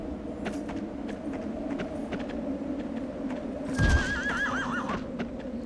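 A horse in the video game Shadow of the Colossus gives a single loud, wavering whinny partway through, standing out over a steady low rumbling game soundscape.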